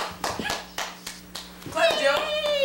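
An 8-month-old baby's hands patting together a few times in quick, light claps, with an adult voice talking brightly over and between them.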